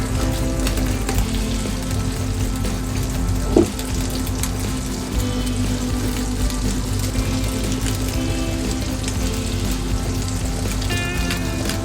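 Garlic frying in butter over low heat, a steady dense crackling sizzle running continuously and evenly, close and fairly loud, with one faint clink partway through and no voices.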